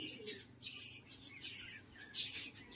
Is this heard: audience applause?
no